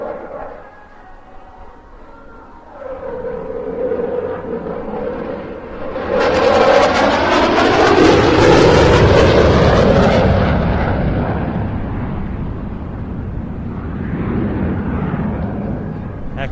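A military jet roars through a flying display at the Bournemouth Air Festival in the evening, its engine noise swelling from a distant rumble into a loud, harsh afterburner blast that peaks mid-pass and then slowly fades away.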